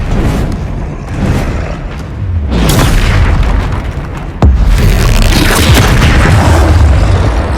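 Confringo fire-blast spell in the video game Hogwarts Legacy, a loud booming explosion that hits sharply mid-clip amid continuous dense combat noise and rumbling low-end impacts.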